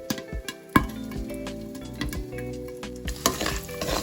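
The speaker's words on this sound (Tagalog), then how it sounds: "Diretso lang natin hanggang sa maging crispy ng ating pork belly." Pork belly frying in hot oil until crispy, a steady close sizzle with a few louder pops and stirring clatters over four seconds.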